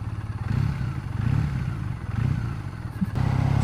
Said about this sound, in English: Nice little burble here, and we take off the throttle.